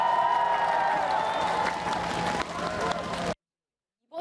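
A crowd at an outdoor campaign rally gives a round of applause, clapping mixed with distant voices and general hubbub for about three seconds before cutting off abruptly.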